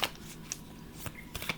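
Tarot cards shuffled in quick bursts, several soft riffling rustles and snaps spread across a quiet room, close and crisp with no voices.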